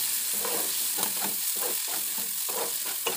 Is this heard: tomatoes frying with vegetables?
yes